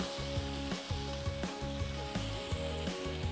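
Fish marinated in olive oil cooking with lemongrass in a pan with no added oil, giving a steady close sizzle with rhythmic stirring scrapes and clicks.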